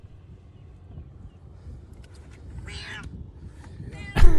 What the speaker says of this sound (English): And this is a cat being saved.